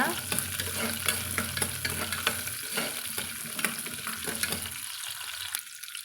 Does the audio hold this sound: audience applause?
no